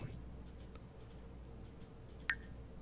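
Faint mouse clicks during building in The Sims 4, a few soft clicks over a quiet low hum, with one sharper click near the end.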